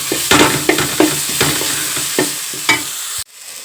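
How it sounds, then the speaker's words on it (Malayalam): Chopped coconut being stirred in a hot frying pan, a series of scraping strokes with a steady sizzle underneath, close and fairly loud, ending abruptly in near silence. "പിന്നെ നമ്മൾ അരിഞ്ഞു വെച്ചിരുന്ന തേങ്ങയും കൂടെ ഇട്ട് കൊടുക്കാം. നല്ല രീതിയിൽ മിക്സ് ചെയ്ത് ജോയിൻ ചെയ്തെടുക്കാം"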